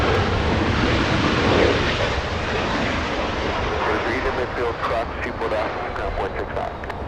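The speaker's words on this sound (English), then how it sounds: "There she goes. A350 flies back to Frankfurt." A Lufthansa Airbus A350 jet takes off from Los Angeles International Airport for Munich with a loud, broad engine roar that holds steady and then starts to thin out. A voice talks over it.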